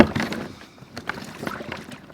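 Water gurgles and splashes in irregular spurts as it drains out of a scuba BCD inflator hose, close by and moderately quiet.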